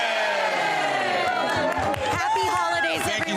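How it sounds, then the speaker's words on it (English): A group cheering together at a holiday toy drive, voices rising in a loud collective shout with overlapping calls and chatter, close and continuous throughout. "You want to do the Toy Mountain cheer?"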